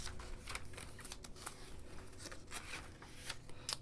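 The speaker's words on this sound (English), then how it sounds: "I'm just going to just flip through so you can see all of the Vellum dashboards" Paper planner pages with vellum dashboards and monthly spreads being flipped by hand, giving a run of soft, quick rustling page turns at close range with no talking.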